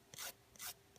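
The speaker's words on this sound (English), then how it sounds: "file just a little bit more" A nail file rasps back and forth across a fingernail during a Jamberry wrap application, three close, quiet strokes with short gaps between them.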